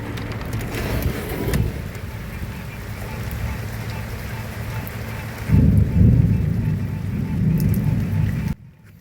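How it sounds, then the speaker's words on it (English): Steady rain hisses throughout while deep thunder rumbles roll in, one brief and then a longer, louder one. "You afraid of the thunder and the lightning?"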